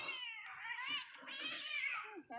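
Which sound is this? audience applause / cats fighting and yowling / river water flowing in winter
cats fighting and yowling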